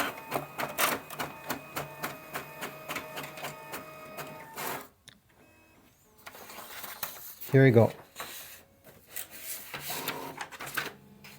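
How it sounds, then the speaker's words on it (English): A Brother MFC-J1170DW inkjet printer scans and makes a black and white copy, close up with rhythmic mechanical clicking and whirring, a pause, then a louder motor burst and paper feed, while a person briefly speaks. "It starts scanning and the result will come out here."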